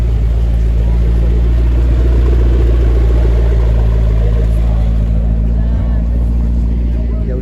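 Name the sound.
McLaren 12C supercar driving off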